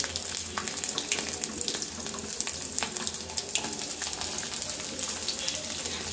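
Garlic sizzles in hot oil with dried red chillies and curry leaves for an amaranth-greens kootu, a soft steady crackle broken by light stirring clicks, with no voices.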